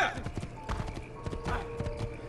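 Horse hooves clip-clop in a steady rhythm in the video game Assassin's Creed 2, with a brief whinny and crowd noise, fairly close and moderately loud.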